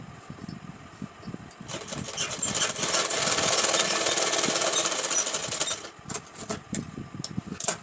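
A sewing machine stitching Rajputi kanchali fabric runs in one continuous, fast mechanical whirring burst of about four seconds, with quieter handling clicks and rustles before and after.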